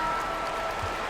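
A home basketball crowd in the NBA 2K21 video game applauds and cheers in a dense, continuous wash of clapping that fills the short moment.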